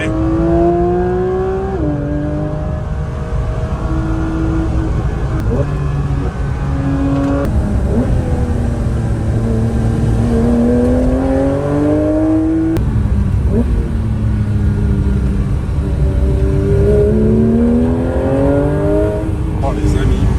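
A Porsche 911 GT3 RS engine revs hard while driving, heard from inside the car. Its pitch climbs and drops repeatedly through the gears, staying loud and continuous throughout.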